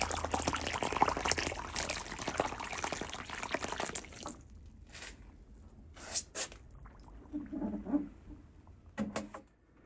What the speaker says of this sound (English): Time for the water to hit the concrete.